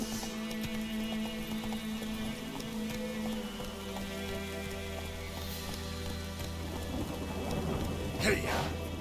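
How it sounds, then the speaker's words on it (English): Heavy rain pours onto a boat in The Witcher 3: Wild Hunt, a steady dense hiss with low rumbling thunder underneath and a brighter burst near the end. "It's pouring like this on the boat."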